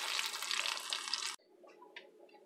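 Hot oil tempering crackles and sizzles loudly and steadily as it is poured into boiling bottle gourd sambar, then cuts off sharply, leaving faint clinks and soft bubbling behind.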